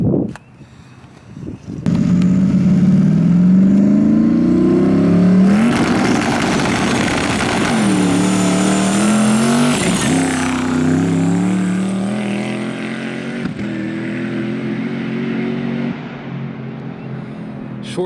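Twin-turbo Ford Crown Victoria on a no-prep drag strip launches hard, its engine screaming up through the gears with rising pitch and a shift break, then fading into the distance as the pass ends.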